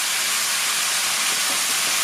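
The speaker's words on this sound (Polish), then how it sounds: "Smażymy z drugiej strony mięsko" Pork ribs frying in a pan give a loud, steady, close sizzle that fills the brief moment without pause.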